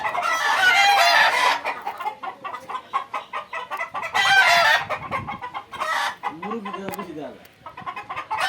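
Egyptian Fayoumi chickens cluck and cackle close by in repeated bursts, with a rooster crowing partway through and background voices intermittently present.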